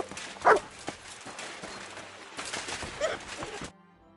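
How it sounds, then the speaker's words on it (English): A dog barks in the video game Kingdom Come Deliverance 2, giving a sharp close bark early on and a second, softer bark a few seconds later over ambient game sound. "You silly doggy."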